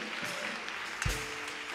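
Church congregation applauding a pastor, a steady wash of many hands clapping with a brief thump partway through.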